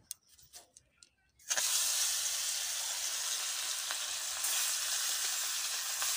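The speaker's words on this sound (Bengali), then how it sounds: "তোমার মাছটি ভেজে দিচ্ছি। মাছটি দিয়ে দেবো কড়াইতে।" Fish sizzling and frying in hot oil in a wok, a sudden loud, steady hiss that starts after a brief quiet moment and continues unbroken to the end, with faint stirring.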